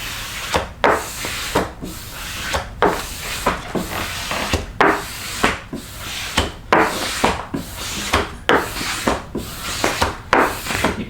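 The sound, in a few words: squeegee rubbed back and forth on arcade cabinet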